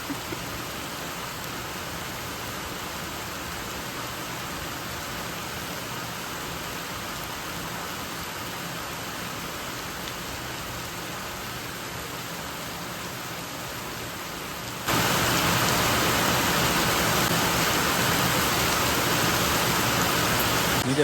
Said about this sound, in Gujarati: ચારે બાજુ છે વરસાદ